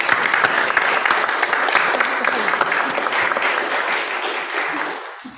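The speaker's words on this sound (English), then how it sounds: "Another clap for Ivor." Church congregation applauding after a baptism, a steady wash of many hands clapping together at close range, tapering off near the end.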